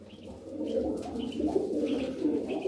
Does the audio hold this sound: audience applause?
no